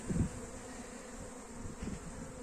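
A honeybee swarm caught in a foam box makes a continuous, fairly faint buzz, with a few louder close passes of single bees and no talking.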